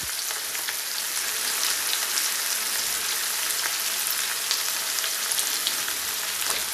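Spätzle frying to golden brown in a pan of fat, a steady dense crackling sizzle that runs unbroken at close range with no voices over it.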